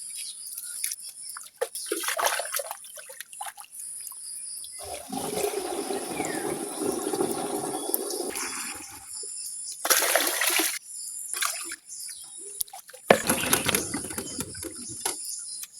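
Water is poured into a container to mix with pesticide for spraying a rice field, coming in splashing bursts with quiet gaps between them, fairly close and moderately loud.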